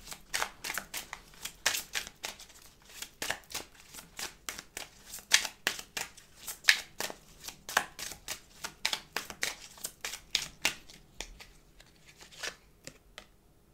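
Tarot cards being shuffled by hand in a long run of quick riffling bursts, each a crisp papery flutter, close and fairly quiet, with no talking.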